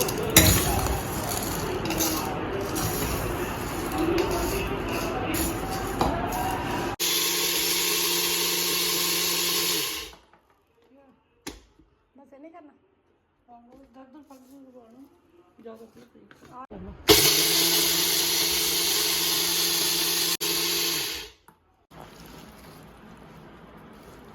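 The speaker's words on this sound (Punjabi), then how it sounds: "ਆਪਾਂ ਗ੍ਰਾਈਂਡਰ ਮਸ਼ੀਨ ਜਿਹਨੂੰ ਗ੍ਰਾਈਂਡ ਕਰਾਂਗੇ" Clinking and handling noises at first, then a small grinder roars in two loud bursts grinding roasted spices, separated by a quiet pause with faint sounds.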